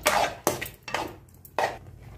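Khoa being mixed in a pan, heard as several loud scraping and knocking strokes of a spoon against the pan, close and irregular, with no talking.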